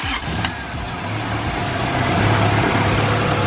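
A Honda Civic EG hatch engine settles into a steady idle just after starting, a low, even mid-pitched hum close by, with a brief clatter near the start and no talking.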